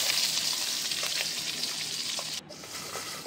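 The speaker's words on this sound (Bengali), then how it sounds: "মাছগুলো ভাজা ভাজা হয়েছে, বেশি ভাজতেও হবে না, হালকা ভাজলেই হবে" Pabda fish frying in oil in a pan give a close, continuous crackling sizzle that drops slightly in level partway through, then carries on.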